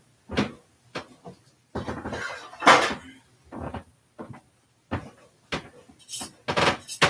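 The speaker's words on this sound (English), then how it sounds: "Now I'm going to go get a little pan here." Small metal mini loaf pans are pulled out and handled in a home kitchen, giving a series of short clanks, knocks and thumps separated by brief quiet gaps, with no talking.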